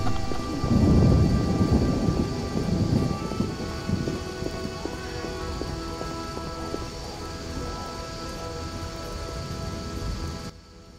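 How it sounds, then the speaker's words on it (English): Heavy rain and a thunderstorm in The Witcher video game, with a loud rumble of thunder early on over a steady, close downpour that continues alone before cutting off. "It rains and it pours."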